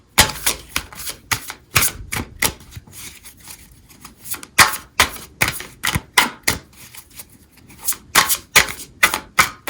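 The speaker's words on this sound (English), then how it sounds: "I'm going to shuffle the deck here a little bit" A deck of tarot cards being shuffled makes close, sharp, rapid slaps and clicks in uneven rhythmic bursts with brief pauses.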